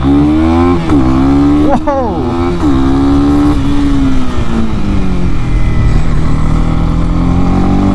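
A Honda CB300R motorcycle accelerating hard through the gears, its engine note rising in pitch in several sweeps with brief dips at each shift, loud and close, with a rider exclaiming over it.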